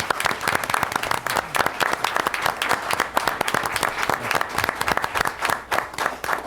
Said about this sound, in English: So could we give these two gentlemen a round of applause?